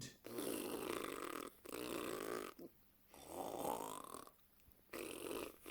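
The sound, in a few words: snoring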